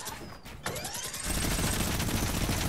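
A minigun in a video game opens up in a loud, continuous roar of rapid fire that starts about halfway through and keeps going to the end, after a brief buildup.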